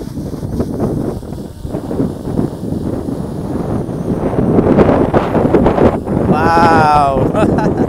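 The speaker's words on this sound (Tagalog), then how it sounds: "Ang lakas ng hangin guys." Strong wind buffets the microphone in loud continuous gusts, with people's voices calling out beneath it, near a Mitsubishi L200 pickup.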